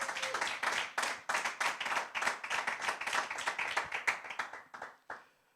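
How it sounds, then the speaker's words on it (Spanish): A church congregation claps, the individual hand claps coming through as a close, rapid run of sharp slaps that thins out and stops near the end. "Alguien le da un aplauso a la misericordia de Dios."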